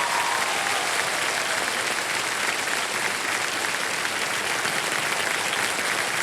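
A KBC studio audience cheers on a contestant who has just won five lakh rupees, a loud, unbroken wash of dense applause filling the room at constant strength, with no speech over it.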